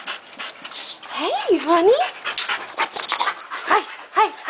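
A pet dog whimpers with rising and falling whines and pants close by, in several short bursts, while people talk over it.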